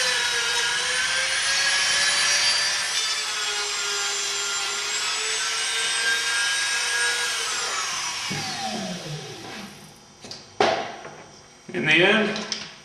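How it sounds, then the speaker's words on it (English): Barrel sander smoothing a snag plate, a loud continuous high-pitched whine that winds down in pitch toward the end, followed by short bursts as the tool touches the workpiece again, with speech present. "we're just going to clean this up again with our barrel sander."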